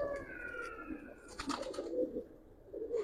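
Giribaz pigeons coo softly at close range in a loft in Old Dhaka, with a few brief higher chirps and rustles around them; no one speaks.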